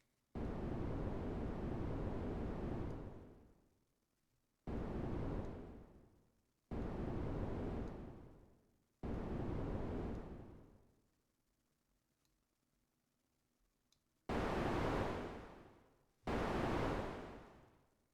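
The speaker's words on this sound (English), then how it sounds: "Let's get me some white noise." Broadband white noise bursts for a Wall-E sound redesign: a long sustained hiss, then a series of shorter blocks separated by silences, each ending in a fading tail, with the last two bursts brighter and sharper.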